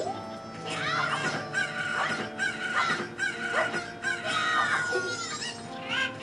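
Several roosters in the N64 video game Zelda: Majora's Mask crow repeatedly in overlapping cock-a-doodle-doo calls, loud and close, with clucking between them.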